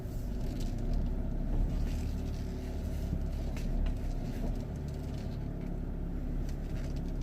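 Nissan X-Trail being driven on a test drive, its steady low engine and road rumble running continuously and fairly loud inside the cabin, with no talking.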